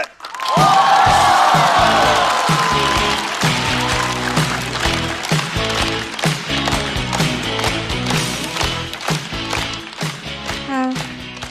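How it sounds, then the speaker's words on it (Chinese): A loud stand-up comedy audience in China bursts into sustained applause and cheering, with music playing underneath the whole time. "掌声欢迎"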